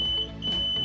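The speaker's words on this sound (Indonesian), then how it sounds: "akan ada bunyi beep yang panjang" A long steady electronic beep from an RFID NodeMCU solenoid door lock rejecting an unregistered card, one continuous tone held through the whole moment, fairly loud and alone with no talking.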